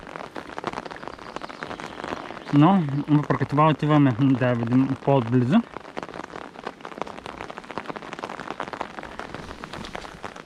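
Steady rain falls at Asen's Fortress, a close, even patter on surfaces that runs throughout, with someone speaking over it for a few seconds in the middle.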